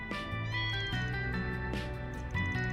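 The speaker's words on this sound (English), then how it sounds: "There's a kitten over here." A kitten in the video game Trails Through Daybreak 2 meows several times in close succession, high, clear and near, with soft game music underneath.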